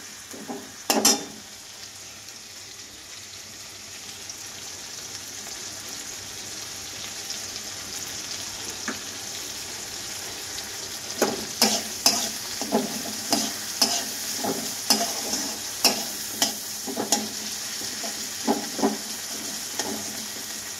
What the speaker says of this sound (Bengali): তারপর আমি টমেটোটা দিয়ে দিলাম। টমেটোটাও দিয়ে দিলাম। একটু নুন দেব।